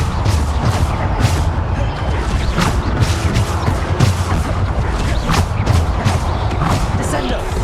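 Repeated Depulso spell blasts in Hogwarts Legacy combat, a loud steady barrage of crashing thuds and booming impacts piling on top of one another, with a voice calling out beneath the din.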